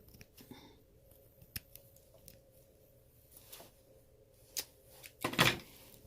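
Scissors snip through faux fur fabric while sewing a vest, a few soft quiet cuts scattered over a hushed room before a louder, longer crunching cut near the end.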